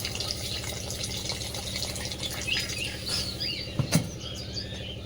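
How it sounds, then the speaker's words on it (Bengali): Water runs and splashes steadily into a simmering curry pot, a continuous close trickle with bubbling underneath and a brief clatter near the end; birds chirp faintly in the background. "তরকারি জল দিয়ে দিচ্ছি।"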